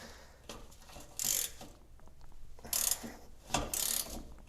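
A hand ratchet works a bolt while a 3rd-gen Toyota 4Runner bump stop is removed, giving close, fairly quiet bursts of rapid clicking separated by short pauses, with no talking.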